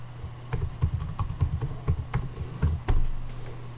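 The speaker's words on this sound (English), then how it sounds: "Then retype the password again." Password being typed on a computer keyboard, a quick irregular run of sharp key clicks over a low steady hum, close and clear with no talking.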